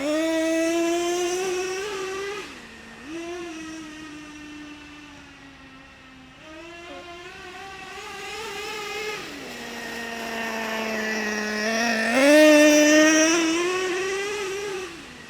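A Traxxas Revo 3.3 nitro RC monster truck engine buzzes and revs, its high whining pitch climbing and dropping in repeated surges with brief dips as it shifts, moderately close and alone without talk.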